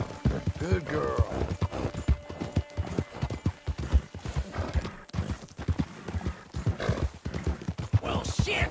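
Rhythmic hoofbeats of a horse in Red Dead Redemption II sound close and continuous, with a brief whinny, mixed beneath someone talking throughout.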